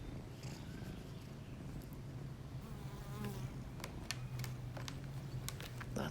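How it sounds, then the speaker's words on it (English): Bees buzz steadily around the listener in an urban garden among thyme, sage, tomatoes and yarrow, a low continuous hum with occasional nearer passes and a few faint clicks. "We have tons of bees."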